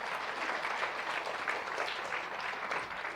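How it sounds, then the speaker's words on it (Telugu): A church congregation at a Catholic service claps loudly together, a steady dense wash of applause lasting a few seconds without any pause. "గట్టిగా చప్పట్లు కొట్టండి"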